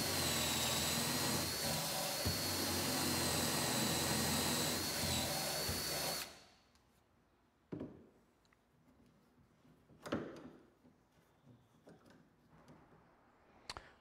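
A power drill whirs loudly and steadily as it bores oar lock holes through a wooden block, then stops abruptly. A few scattered knocks and clunks follow in a quiet room.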